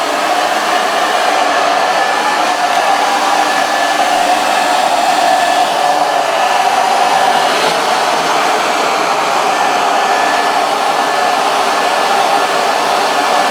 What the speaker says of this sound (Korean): 바람을 드라이기 등으로 주고 있습니다.